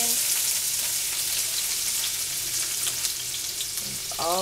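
Onion sizzles in a pan of hot fat left over from cooking Salisbury steak, a steady, bright, crackling hiss. A short stir or clatter comes near the end.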